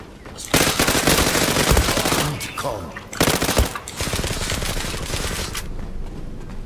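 Rapid automatic gunfire bursts from the Turkish first-person shooter Zula, loud and continuous with brief pauses, while players talk and shout over it.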